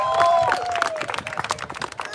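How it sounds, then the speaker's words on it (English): A crowd at an outdoor community barbecue applauds a DJ, close, busy clapping mixed with scattered cheers and crowd noise, while music with a sustained tone carries on underneath and the clapping thins out toward the end. "can we have a big round of applause for our DJ who's keeping us engaged?"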